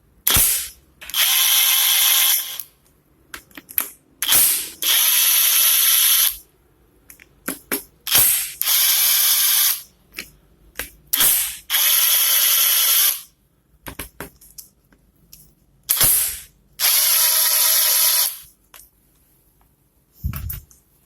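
A ratchet wrench with an 8 mm socket clicks rapidly in repeated bursts of a few seconds each, separated by short pauses, while loosening bolts on a Suzuki GR150 motorcycle engine, close and clear.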